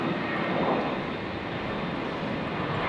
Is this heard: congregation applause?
no